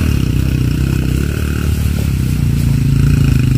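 An enduro motorcycle labours up a hard mountain trail on Mt. Paldingan, its engine droning steadily at mid pitch with clattering and scraping mixed in, loud and close throughout.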